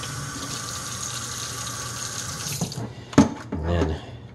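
A foam pre-filter from a Yeedi Vac 2 Pro robot vacuum is rinsed under a running tap, a steady rushing stream that cuts off, followed by a few wet splashes and drips.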